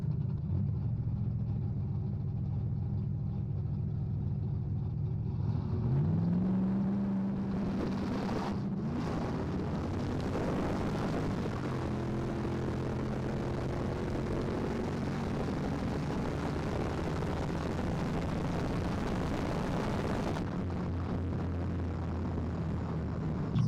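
Drag car on a two-step launch with 19-degree launch retard, building boost: a low engine drone rises sharply into a loud acceleration, its pitch climbing and stepping through gear changes before settling to a lower hum.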